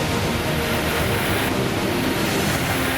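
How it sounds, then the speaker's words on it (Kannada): Floodwater from a swollen stream rushing after heavy rain in Karnataka, a steady broadband roar of churning water, loud and continuous with no voices. "ಹಳ್ಳ ಹೆಂಗ್ ಹೋಗಕತ್ತ ನೋಡ್ರಿ ಅದ"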